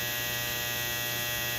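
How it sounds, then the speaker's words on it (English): A household clothes dryer runs with a steady, continuous low mains-like hum and broadband whir, unchanging throughout with no talk. "that's my dryer"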